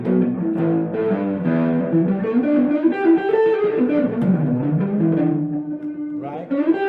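Electric guitar run through a distortion effect plays sustained, gliding melodic lines with a thick, buzzing tone, loud and continuous with no speech over it.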